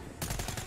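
A short, rapid burst of automatic gunfire from a gun in the video game Black Ops 3, loud and close, beginning abruptly after a brief quiet moment.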